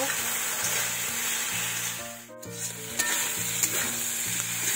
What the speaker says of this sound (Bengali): মশলা ভালো করে কষাই নেব।